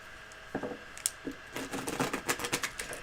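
A tarot card deck is shuffled in quick bursts, crisp papery riffles and flicks coming in close, uneven clusters with brief pauses between.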